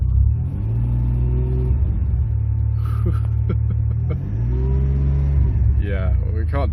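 A 1999 Ferrari 550 Maranello's engine idles with a deep, loud exhaust rumble, then revs up and settles back several times. The sound is close and continuous, with brief talking over it.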